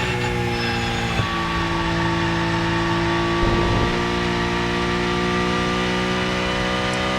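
Porsche Cup race car in the Rennsport racing game at Spa, engine droning steadily at high revs with sustained tonal harmonics, loud and continuous with a brief shift midway.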